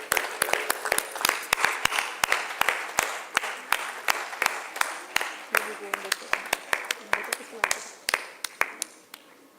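An audience at an international urologic oncology and uropathology congress claps steadily in rhythm. The sharp, even claps continue throughout.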